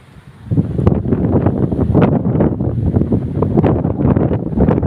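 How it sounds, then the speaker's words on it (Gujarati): Strong storm wind blasts across the microphone in loud, rumbling gusts over a damaged cotton farm, a constant buffeting roar with no voices. "પવન ચાલુ જ છે"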